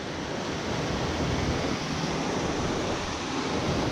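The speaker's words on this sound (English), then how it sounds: "This is a raging river right here." A raging river on a backpacking trip, the stream near Wakey Lake, roars as a loud, steady wash of rushing water close by. The broadband rumble fills the whole clip without a break.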